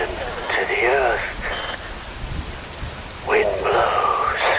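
Rain falls steadily in Metal Gear Rising: Revengeance, a broad continuous hiss running under voices that speak through most of the scene.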